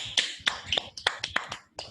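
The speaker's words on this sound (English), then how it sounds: "Everybody give him a clap for me" Students in a maths classroom give a classmate a round of applause: a handful of light, scattered hand claps, fairly faint and uneven, with no one speaking over them.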